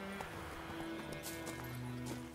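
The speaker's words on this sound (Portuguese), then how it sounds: "Ah, é o cavalo." Horse hooves clip-clopping in The Witcher 3 game while riding out, a steady light patter of hoofbeats with a brief whinny-like tone, under ambient game sound.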